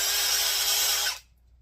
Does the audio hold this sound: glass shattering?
no